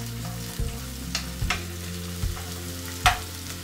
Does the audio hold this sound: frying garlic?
yes